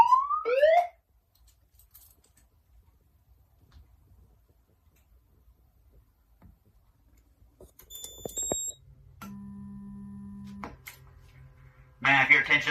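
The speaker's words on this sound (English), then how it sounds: "We have finished testing the fire alarm system." Notifier NFS2-640 fire alarm system test signal: a couple of short electronic tones, then a steady buzzing horn tone of about two seconds, followed by a harsh loud alarm burst at the end, separated by quiet gaps.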